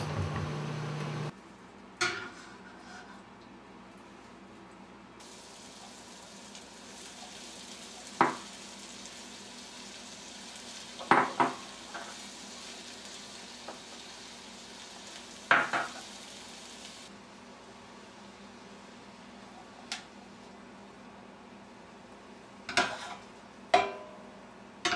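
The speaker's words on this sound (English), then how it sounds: "go ahead and bring my garlic over to my saute pan. I just have a nonstick saute pan, and I'm going to put a little olive oil in" Garlic sizzles gently in olive oil in a nonstick sauté pan, a steady soft hiss broken by occasional sharp clinks and taps of a utensil against the pan.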